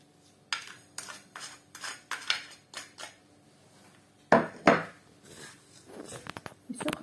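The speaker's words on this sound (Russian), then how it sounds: "И все хорошенько размешиваем." A spoon stirs a filling of chopped pumpkin, raisins, salt and sugar in a bowl, giving scattered clinks and scraping taps against the dish at close range.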